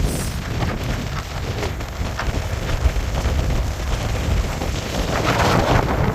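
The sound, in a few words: strong wind gusts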